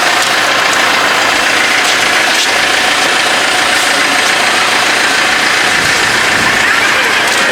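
A heated tractor's engine idles at a Holly Jolly Christmas parade in Marine City, a loud, steady mechanical rumble under dense street noise for the whole stretch.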